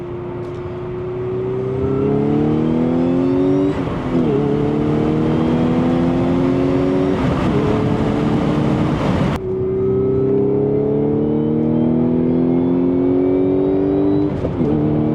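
A 2016 Audi S5 with a manual gearbox and stage 3 clutch revs hard through several gear pulls, pitch climbing steadily then dropping at each shift, loud and close throughout.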